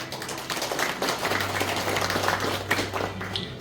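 A crowd at a councillor's public report meeting in a Jeongseon farmers' cooperative hall claps in a moderate, uneven round of applause, with a low steady hum running underneath.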